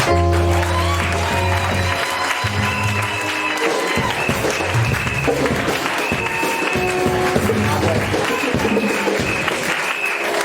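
A large crowd cheers and applauds loudly and steadily throughout, with dense clapping and a roar of voices that stay fairly even from start to end.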